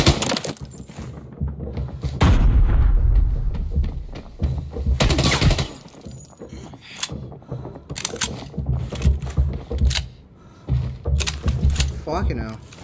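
Bursts of gunfire from the video game Arena Breakout, a firefight in a TV station map with an AUG rifle, sharp repeated shots and loud volleys in several clusters, heard alongside players talking over the action.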